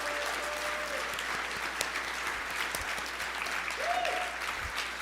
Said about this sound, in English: I just want everyone to give her another round of applause.